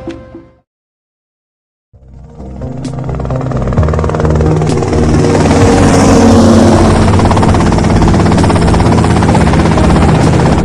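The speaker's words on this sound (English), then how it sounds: "that's them in the chopper" A helicopter in GTA Vice City: after a short sound and a second of silence, a loud rotor and engine roar builds up and holds steady, close and dominant.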